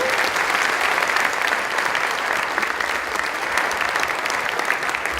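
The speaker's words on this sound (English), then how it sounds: "Give her a round of applause." Sustained applause from a conference audience at a CEO summit, steady dense clapping that fills the room for several seconds without a break.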